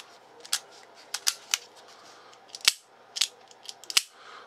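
Dry firing of a Smith & Wesson Bodyguard and a Ruger LCR polymer double-action revolvers: a series of quiet, sharp mechanical clicks and snaps from hammers and triggers, irregularly spaced and close up.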